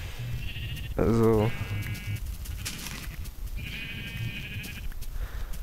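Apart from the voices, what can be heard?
sheep bleating in video game Minecraft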